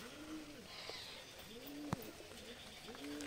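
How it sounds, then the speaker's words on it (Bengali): A lotan pigeon coos nearby in three rounded, rhythmic calls spaced about a second apart, with a sharp click in the middle and faint background ambience. "আর এই যে লোটন নটটা ডাকছে"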